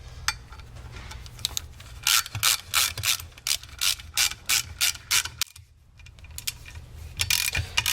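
A hand ratchet runs two bolts back in on a Land Rover Discovery Series II power steering pump, with quick bursts of clicking strokes in an irregular rhythm and a brief pause midway, close and clear.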